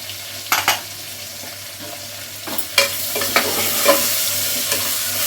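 Bottle gourd curry sizzles steadily in oil in a hot pan while a utensil scrapes and stirs with a few sharp clinks, close by and without talk.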